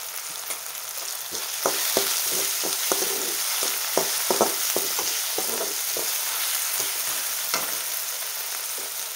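Leftover rice with tomato, salt, turmeric and coriander stir-fried in a pan over low heat, a soft continuous sizzle broken by frequent light scrapes and taps of the spatula, close and fairly quiet.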